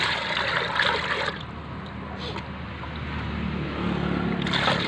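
Six litres of water pours steadily into a container with a continuous splashing, gurgling rush, close and fairly loud throughout.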